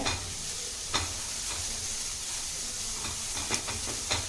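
Beetroot sautéing in a pan over low heat for a walnut beetroot pasta, giving a steady soft sizzle and hiss with a few sharp stirring clicks of a spoon against the pan, close and alone.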